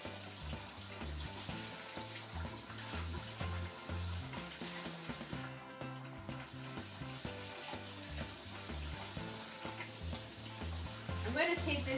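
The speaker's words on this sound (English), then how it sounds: "So I just rinse that for a while." Quinoa is rinsed under a running kitchen tap: a steady, close splash and hiss of water pouring over grains, continuing with small fluctuations throughout, and no one talking.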